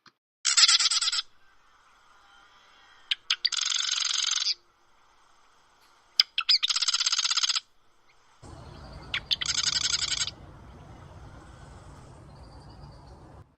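Marsh wrens singing in a marsh, several bursts of rapid buzzing, rattling trills separated by short pauses, fairly close and loud, later over a low steady rumble of background noise.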